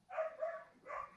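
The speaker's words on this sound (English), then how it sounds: "If you guys hear barking, that's my dog." A dog gives a few short barks in quick succession, fairly close, with no talking.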